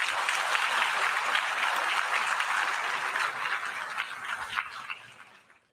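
At the UN General Assembly during Lula's speech, a large audience claps in a dense, sustained burst that fades out over the last second.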